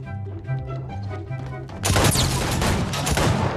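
Gunfire from a six-shooter revolver in a video game, a sudden loud burst of shots cutting in halfway through after a steady tonal game soundtrack.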